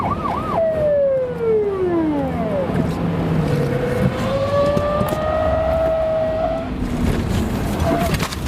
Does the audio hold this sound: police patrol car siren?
yes